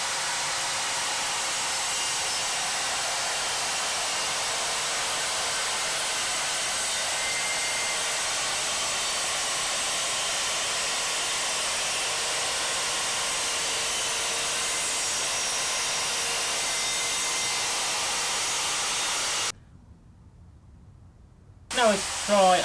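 Evolution R185CCSX budget track saw cutting 12mm plywood: a loud, steady, hissing whine runs for nearly twenty seconds, then cuts off, leaving quiet handling noise.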